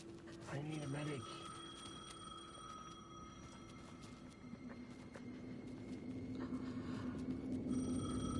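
A telephone ringing in the Alan Wake 2 video game, repeating ring tones with faint tonal hum and low rumble underneath, and a voice talking briefly early on.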